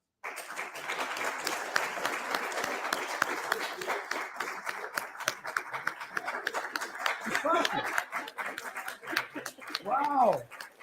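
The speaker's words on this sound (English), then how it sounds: "please start clapping" An audience claps steadily to cast a vote, a dense continuous patter of many hands lasting throughout, with laughter and a voice rising over the clapping near the end.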